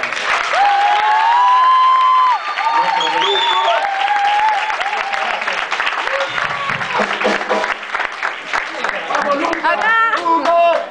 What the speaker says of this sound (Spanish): Le pedimos un aplauso muy fuerte para nuestro Lucas.